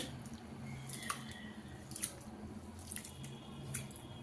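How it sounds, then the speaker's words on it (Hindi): Rice for anarsa is washed by hand in water, giving soft, faint sloshing and squishing with scattered small splashes and drips, close by and without talk. "अब इसे हम 2 से 3 पानी से अच्छे से धो लेंगे"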